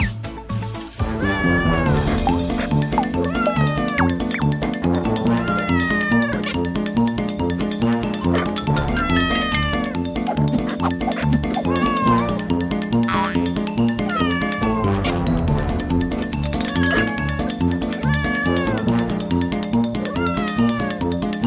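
Kittens in the Roblox video game meow over and over, many high, sliding cries layered across a loud, steady backing music track throughout.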